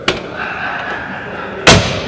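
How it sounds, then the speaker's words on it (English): A heavy door on a classic 1990s Ford shuts twice, each a single solid slam-thud, the second louder, with a quiet pause between. "How solid is that door when you closed it as a child?"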